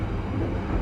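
Local train hauled by a CC206 locomotive rumbles past in a brief, steady low roar of rolling wheels and carriage noise.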